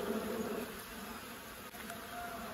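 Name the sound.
honey bees buzzing around beehive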